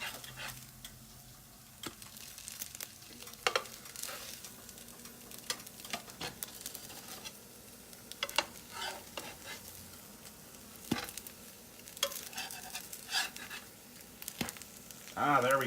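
Pumpkin French toast slices frying in a hot pan just after being flipped, giving a steady close sizzle broken by scattered spatula clicks and scrapes throughout.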